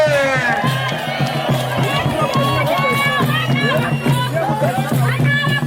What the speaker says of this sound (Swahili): Watu yote wapige vigelegele.